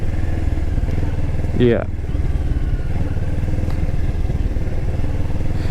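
Kawasaki Z650 twin-cylinder engine at very low revs, a steady, slightly choppy mid-pitched drone heard from on board, with a brief voice and a short rising whine partway through.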